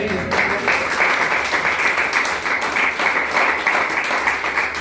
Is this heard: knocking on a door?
no